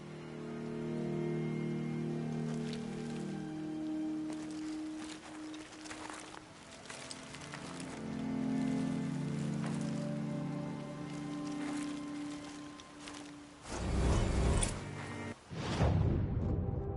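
Steady rainfall patters across the ground in Horizon Zero Dawn Remastered on the way to Maker's End, a constant wash with scattered heavier footstep-like thumps and a louder burst of movement near the end.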